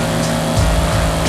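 A 710 hp twin-turbo Audi ABT RS6-R accelerates in Forza Horizon 5, its engine a loud, steady roar with a rough low rumble throughout the short burst.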